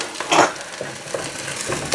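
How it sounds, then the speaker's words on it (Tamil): Curry leaves and chopped garlic sauté in a pan for a Sri Lankan pumpkin and cassava curry, giving a soft sizzle with a stirring scrape, close and fairly quiet. "கூடவே கொஞ்சம் கருவேப்பிலையும் சேர்த்து வதக்குறேன்"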